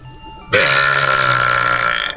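A single long, loud belch rumbles and gurgles for about a second and a half, standing alone with no talking around it.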